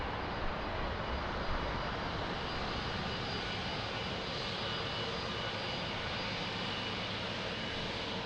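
A Portuguese Air Force KC-390 military transport aircraft lands at Lisbon Airport, its engines producing a steady, loud broadband roar that holds evenly from start to finish with no voices.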